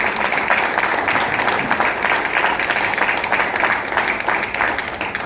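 An audience applauds steadily after a screening of a patriotic musical short film about an army man, dense clapping sustained at an even level from start to finish with no pauses.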